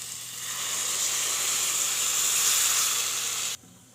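Mashed dal mixed with tamarind juice poured into a hot pan, sending up a loud, steady hiss of sizzling that rises and holds for a few seconds, then cuts off abruptly.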